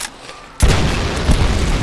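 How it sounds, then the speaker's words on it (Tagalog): A sudden loud explosion booms in Call of Duty: World at War, bursting after a quiet moment and rumbling on with crackling debris noise, close and heavy. "Sumabog!"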